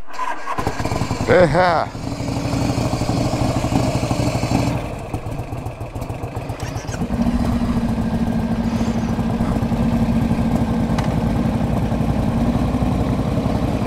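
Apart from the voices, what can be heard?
1984 Harley Davidson FLT Tour Glide motorcycle engine starting and idling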